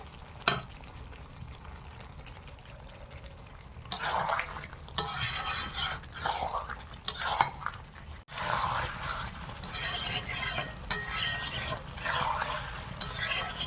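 Ground spice paste fries with chicken in a pan while being stirred, with scraping and clattering of utensil on metal over a soft sizzle, in bursts close by without speech.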